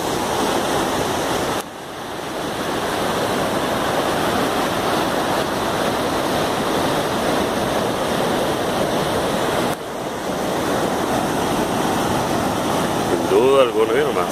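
Excess water from the Peña del Águila dam in Durango pours through its natural spillway into a river, a loud, constant roar of rushing water with two brief dips in level.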